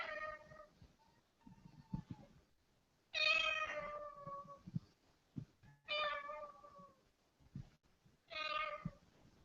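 A parrot mimics a cat, giving several drawn-out, wavering meows at close range, each loud and clear with short pauses between them.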